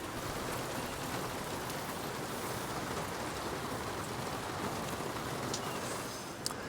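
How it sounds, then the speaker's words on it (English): Steady rain falling outside during the rainy season, a dense even hiss of drops on surfaces, close and continuous with no voices. "it's annoying that it's raining whenever I want to work"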